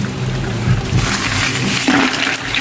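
Water gushes and splashes steadily into a container of kuray fish and ice, a continuous broad rushing pour without speech.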